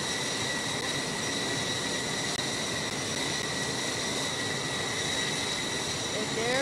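Jet airliner in a Roblox flight simulator on approach to runway 06 at Larnaca Airport, a steady, even engine rush with faint high whine held at constant loudness throughout, heard alone without talk.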